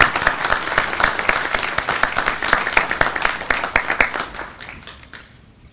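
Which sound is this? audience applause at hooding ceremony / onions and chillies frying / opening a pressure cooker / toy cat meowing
audience applause at hooding ceremony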